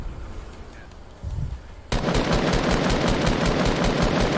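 Video game gunfire pours out in a fast, continuous automatic stream aimed at a cube, loud and steady after a quieter opening with brief background sound.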